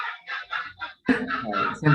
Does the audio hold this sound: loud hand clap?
no